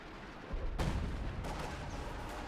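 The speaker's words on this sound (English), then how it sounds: "Zeroing artillery is used" Zeroing artillery barrage in Company of Heroes 2: a heavy, rumbling blast, then a second impact a moment later, both sitting in dense, steady battlefield noise.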